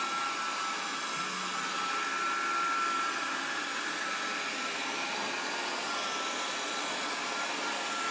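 A Proscenic 820S robot vacuum cleaner runs with a constant, even motor whine and airy suction hiss, close and unchanging throughout.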